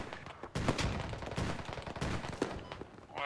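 Automatic gunfire from a VTR armored vehicle in the tactical shooter game Squad, with dense, rapid bursts sounding close and loud in a busy battlefield mix.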